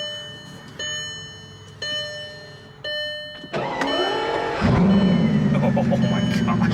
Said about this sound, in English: And I should give you guys some exterior revs too.